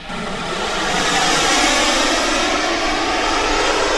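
A Freewing Zeus 45NT turbine RC sport jet in slow flight at partial throttle with partial flap gives a loud, continuous whooshing turbine roar that swells slightly and holds steady overhead, with no voices.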